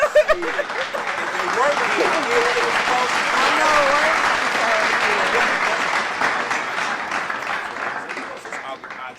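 A crowd at a live podcast taping applauds with sustained, dense clapping that swells and then fades, while people talk briefly over it.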